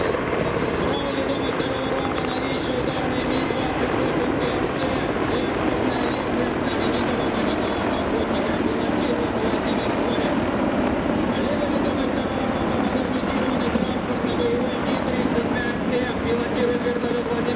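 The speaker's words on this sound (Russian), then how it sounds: "Первый ромб замыкает новейший средний многоцелевой вертолет Ми-38-2." A Mi-38-2 medium multipurpose helicopter flying at the MAKS-2017 air show: its steady, loud engine and rotor roar holds constant throughout, with a faint voice talking over it.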